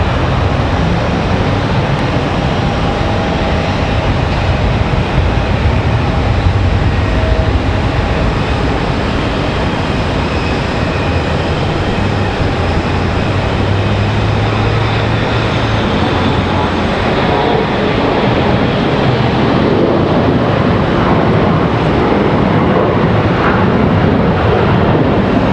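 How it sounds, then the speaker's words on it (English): A Spirit Airlines jet touches down at Charlotte Douglas, heard as a loud, sustained engine and wind roar at some distance that holds steady throughout, with a faint shift late on and no clear talk. "Got another Spirit Airlines touching down over far left."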